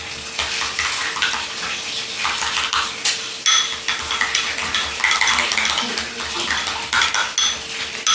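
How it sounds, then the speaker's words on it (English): A spoon or whisk stirs Dijon mustard into a lime dressing in a bowl, giving steady clinking and scraping that run through the clip with small splashy knocks, close and fairly loud. "and about 2 teaspoons of Dijon mustard, and just give it a mix"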